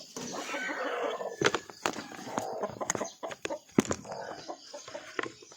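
Chickens on a farm cluck and squawk close by in irregular bursts, with a few sharp louder calls and some shuffling footsteps in the background.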